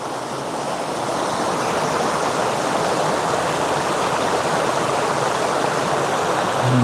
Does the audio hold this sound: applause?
no